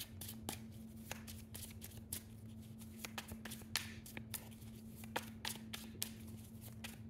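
Tarot cards being shuffled and cut, a steady run of soft riffling flicks and sharp card snaps through the whole stretch, close up and alone, over a constant low hum.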